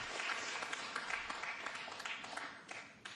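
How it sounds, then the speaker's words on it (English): A faint smattering of audience applause at a 9-ball pool match with Efren Reyes, thin scattered clapping heard at a distance and fading out over a few seconds. "That brings a smattering of applause."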